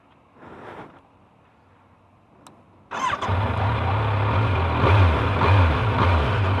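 2018 Kawasaki Z900 motorcycle with its stock exhaust: a brief click and some handling, then the engine cranks, catches and settles into a steady, fairly quiet idle, heard close by with no speech.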